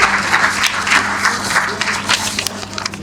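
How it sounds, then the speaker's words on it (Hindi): Applause from a large seated audience in the convention centre auditorium at the Bharat Ke Maharathi 3.0 conference, a steady, dense wash of clapping that holds loud and close through the whole stretch with no talk over it. "एक बार जोरदार तालियों के साथ उनका स्वागत करें।"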